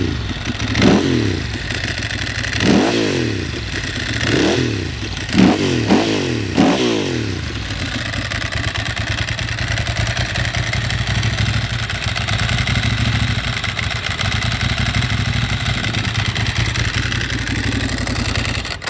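A 2007 Ducati Monster S2R1000 engine running close by, several sharp revs in the first seven seconds, then settling into a loud, steady, throbbing idle.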